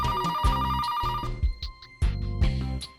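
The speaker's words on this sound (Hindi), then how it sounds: "कब से ब्रिज को फोन करने की कोशिश कर रहा हूं, और ये फोन भी ना लग गया।" A telephone rings repeatedly while a call is being placed, with steady electronic ring tones in bursts and pauses, loud and close, with no talk over it.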